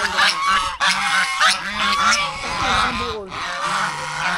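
Several geese honk repeatedly and loudly at close range in a busy flock, harsh overlapping calls in quick bursts, with people talking in the background.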